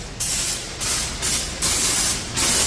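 A spray cleaner hisses onto a brake caliper on a 2014 Toyota Hilux in a workshop, coming in several loud, close bursts with brief dips between them.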